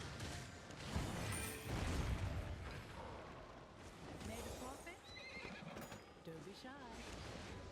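A horse neighs and whinnies in an online game while a player picks a tier 4 horse, with clip-clop hoof sounds and game effects, all under steady talk.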